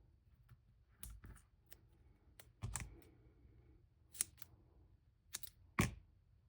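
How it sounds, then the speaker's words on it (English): Scissors cutting a small piece of craft material for a tail, a few faint, sparse snips and clicks spaced apart against a quiet room. "I'm going to now cut some of this just so I can get a little piece on the tail."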